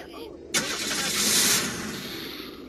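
A car engine starting up in a video game, a sudden crank followed by a rising, rushing engine roar that settles into a steady running hum, with a voice talking over it.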